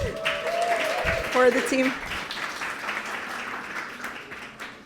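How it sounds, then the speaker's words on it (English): An audience at a Women in Tech panel event applauds the team, with a few short tonal notes and a brief spoken phrase at the start before the clapping settles into a softer, steady patter. "So a round of applause, please,"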